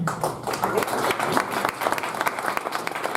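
Audience at a Bushwick book party honoring Edgar Oliver applauds steadily, a dense patter of many hands clapping throughout at moderate volume with crowd murmur mixed in.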